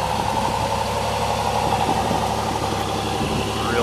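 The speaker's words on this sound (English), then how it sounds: "Real good exhaust note." A Ferrari Testarossa replica's engine idles steadily, its exhaust note a loud, close, even rumble that holds without a break.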